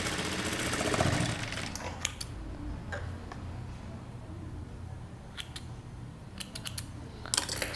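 A machine runs in short bursts, with brief rapid clicking runs and isolated ticks between quieter stretches, close by and fairly soft, as fabric is stitched for a princess-cut kurta.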